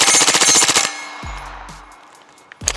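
Springfield Kuna pistol-caliber carbine fitted with a Super Safe trigger on a Nexus Evo lower, firing a fast burst of about a dozen sharp shots in under a second, followed by clattering brass and a final shot near the end.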